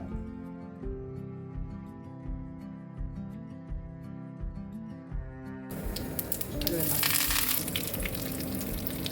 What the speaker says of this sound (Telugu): ఇక పోపు వేసుకుందాం